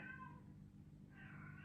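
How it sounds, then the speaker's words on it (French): A female pet cat in heat meows twice, close by and fairly quiet, each call a drawn-out wavering cry with a short pause between them. "Ne faites pas attention si vous entendez mon chat miauler"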